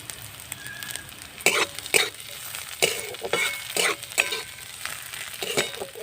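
Chopped onion and garlic frying in a pan, a soft sizzle broken by irregular scraping and stirring clatters, close by and fairly quiet, with no voices.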